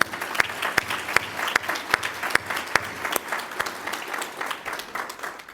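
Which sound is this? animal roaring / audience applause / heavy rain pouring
audience applause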